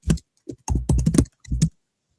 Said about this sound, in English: You need to turn off the microphone when you're typing.